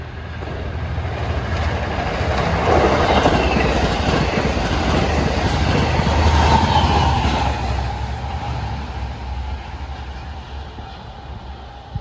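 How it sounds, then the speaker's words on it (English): Long Island Rail Road train 615 from Port Jefferson passes through Mineola on triple track during the morning rush, a loud continuous rumble of wheels and cars swelling then slowly easing off as it goes by. "At 7:27 is train 615, Port Jefferson to Hunters Point Avenue."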